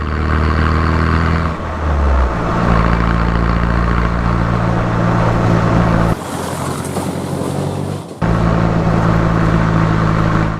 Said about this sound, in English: in true hillbilly style, my Hilux has a straight pipe